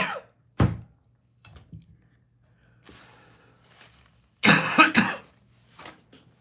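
A person coughs and clears their throat after choking on a piece of granola, with isolated harsh coughs followed by a louder cluster of rough hacking coughs, close to the microphone in a quiet room.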